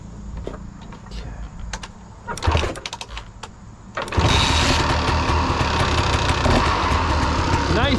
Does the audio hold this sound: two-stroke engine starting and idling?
yes